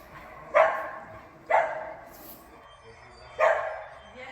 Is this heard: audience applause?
no